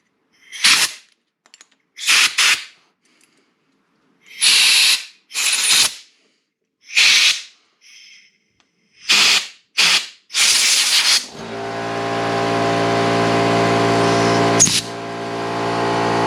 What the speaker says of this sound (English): we're just going to blast each passageway with some compressed air